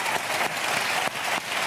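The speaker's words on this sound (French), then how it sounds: "Là, qu'on les applaudisse" Studio audience applauding on a French television talk show, a dense steady clatter of many hands filling the space, close and loud with no speech over it.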